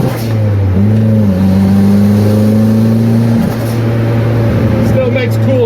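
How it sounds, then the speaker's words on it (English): A turbocharged drift car's engine revs while cruising on the road, with a steady droning tone that rises and shifts pitch partway through, continuous and fairly loud up close, with a voice talking over it. "Still makes cool turbo noises though."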